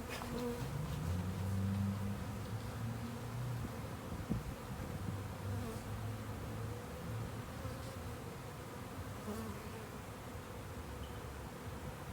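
Italian honey bees buzz around a backyard hive being installed from a package, a steady layered drone of many insects with a few louder bees passing close, no talk.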